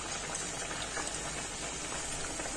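Medu vada made from ration rice frying in hot oil, a dense, steady crackling sizzle and fine bubbling, loud and close with no pauses.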